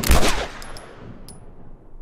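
Video game gunfire: a loud, rapid burst of automatic shots right at the start, then a fading reverberant tail with a few faint metallic pings.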